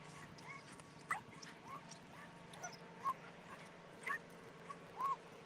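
A dog gives short, faint yips and whimpers on a morning walk, several scattered thin cries over steady outdoor background noise.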